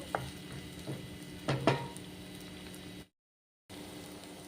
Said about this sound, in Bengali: তেলটা গরম হয়ে গেছে, এবারে দিয়ে দিচ্ছি পেঁয়াজ। পেঁয়াজটাকে এবারে হালকা আছে ভালো করে গোল্ডেন কালার পর্যন্ত করে ফ্রাই করে নেব।